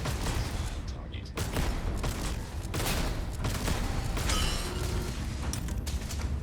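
Shotgun blasts in a sci-fi video game firefight, a series of sharp booming shots over continuous mechanical clatter and dense background noise, with a voice talking intermittently throughout.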